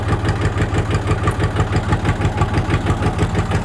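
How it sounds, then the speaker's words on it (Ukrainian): Farm engine running steadily after its starter motor was cleaned and greased, a close, even rhythmic idle with regular pulsing and no talk. "Почистив, усе, позмащував і стартер працює як новий."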